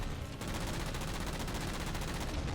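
Mantis mech missiles and machine guns firing in Halo 4 on Legendary difficulty, a dense, loud, continuous barrage of rapid shots and blasts throughout with no pauses.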